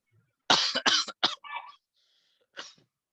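A few harsh coughs in quick succession, then a short pause and one more cough, close and fairly loud against silence.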